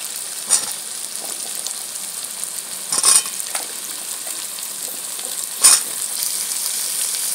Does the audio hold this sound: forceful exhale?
no